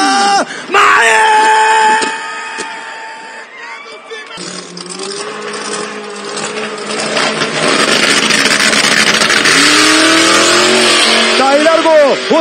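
Drag race cars launching at a drag strip, engines screaming loud and close, first one high revving pitch then rising roars as the cars pull away, with a commentator talking over them.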